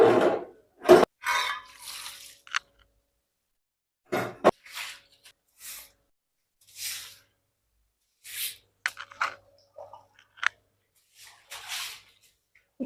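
Cold water splashes over someone's feet in short, scattered bursts with quiet gaps between them, close and fairly soft, with no talking.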